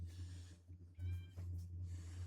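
A hungry cat meows a few times in short, close calls over a steady low electrical hum, with quiet pauses between.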